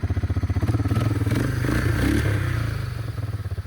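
A Honda Fourtrax 300 ATV chugs through slush, its engine rising and falling in a steady pulsing throb with scraping and clatter from the tires, close and fairly loud throughout.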